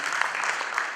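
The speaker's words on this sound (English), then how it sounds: "So, round of applause for both." An audience at a social entrepreneurship panel bursts into a brief, dense round of applause, many hands clapping at once.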